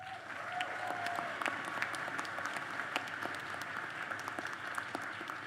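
Sustained applause from a large audience at a college commencement ceremony, steady and dense clapping throughout, heard from a distance in a big room.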